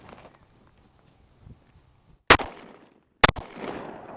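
Two sharp, loud gunshots from a Glock pistol fitted with a GFLEX trigger, about a second apart, each a sudden crack trailing into a brief echoing decay over a quiet background.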